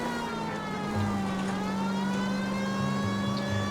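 A police car siren wails steadily during a chase in the video game L.A. Noire, blended with a droning car engine that swells and fades, moderately loud and continuous.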